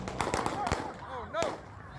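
Gunfire at a nighttime unsanctioned car show in Las Cruces, New Mexico, heard in news footage as several sharp cracking shots in quick succession, with a voice talking over them.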